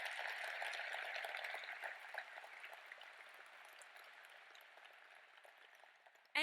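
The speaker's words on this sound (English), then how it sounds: "can we do one more round of applause for Alice?" A steady wash of applause from a luncheon audience at Leadership Louisville, sustained and somewhat distant, slowly thinning toward the end.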